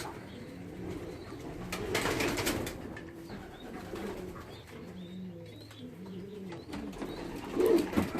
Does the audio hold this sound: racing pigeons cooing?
yes